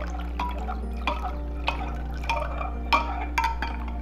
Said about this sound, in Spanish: Vertimos la taza de agua fría.